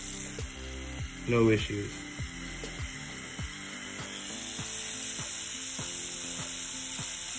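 A CNC Q2 short tattoo pen buzzes steadily with a fast mechanical rattle, close by and continuous, with a brief spoken remark early on.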